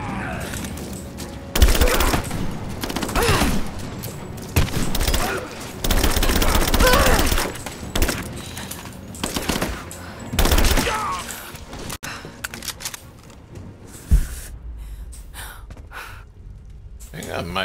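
Gunfire and shotgun blasts from the video game Rise of the Tomb Raider come in repeated loud bursts and volleys over about eighteen seconds, mixed with gasps and voices talking.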